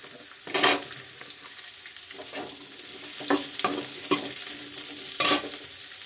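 Chopped onions fry in a pan with a soft sizzle, broken by a few louder scrapes and stirs of a spoon, close and without talk.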